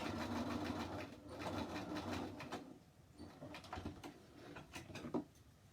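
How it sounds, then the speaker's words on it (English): Domestic sewing machine stitching across the top of a fabric bag strap, running in a steady buzzing burst, pausing, then a shorter reverse burst for a back tack, close and fairly loud with light clicks and handling noise. "I'm going to stitch across the top, okay? About 1/4 of an inch, makes no difference really at this stage. Do a nice back tack."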